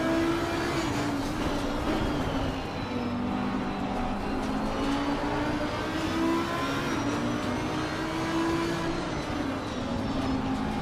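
Several race cars in Assetto Corsa Competizione accelerate together off the race start, a steady layered engine drone with rising and shifting tones that holds loud and unbroken throughout.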